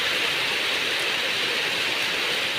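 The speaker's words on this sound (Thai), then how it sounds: "ฝนก็เริ่มตกลงมา" Steady rain falls over rice fields along a rural road in Thailand, a dense even hiss that holds constant throughout with no voices.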